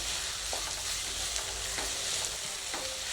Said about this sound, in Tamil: தக்காளி வந்து வதங்கிட்டுருக்கு நல்லா ஓரளவுக்கு வதங்கிடுச்சு